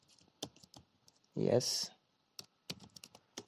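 Keys clatter on a computer keyboard while someone writes code, a few sparse clicks and taps scattered between short bursts of talking, with one louder longer burst of noise in the middle.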